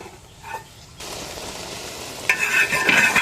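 Chilli chicken gravy sizzles in a pan as spring onion, coriander and curry leaves are stirred in, with a soft scrape of a spoon, then a burst of louder frying and clinking near the end.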